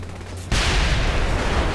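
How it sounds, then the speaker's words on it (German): A rocket launcher explosion in the video game Saints Row: The Third, a sudden loud blast cutting in midway, followed by a dense, sustained rumbling roar. "Das ganze Stockwerk ist explodiert."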